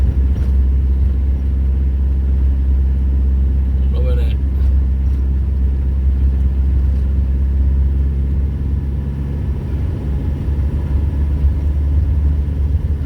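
A camper van's 2.2 diesel engine drones steadily on a narrow Peak District road, a constant low rumble heard from inside the cab, with someone briefly speaking over it.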